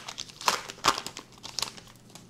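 Topps Stranger Things Season 2 trading card pack wrapper being torn open and crumpled, with crisp crinkling bursts of foil-like plastic up close, two sharper rips near the start and lighter rustling after.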